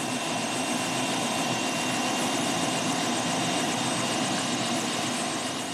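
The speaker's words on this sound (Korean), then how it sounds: "작지만 알차게 사용하고 있는 헬기죠." A Wildcat anti-submarine helicopter running on the deck of a navy destroyer, a loud, constant turbine whine and rotor wash roar that stays close and unbroken throughout, with no talking.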